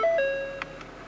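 Single electronic chime from a 2014 Ford Focus ST dashboard in test mode, a clear bright tone sustaining and fading, followed by two faint soft clicks.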